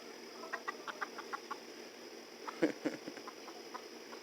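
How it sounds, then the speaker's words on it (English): Scattered soft clucks from several chickens on a homestead, short bursts spaced irregularly over a quiet background hum. "Lots of chickens."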